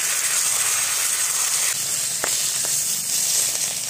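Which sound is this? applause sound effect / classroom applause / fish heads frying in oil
fish heads frying in oil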